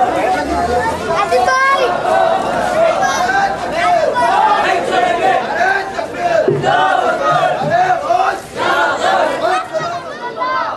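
A large crowd at a religious gathering shouts together in loud, overlapping chants of the slogan "Nara-e-Takbeer" and cheers, a dense roar of many voices that continues throughout.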